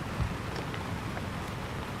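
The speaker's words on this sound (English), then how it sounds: "Here comes the rain." Steady rain hisses continuously, a soft even wash of falling drops with no voices.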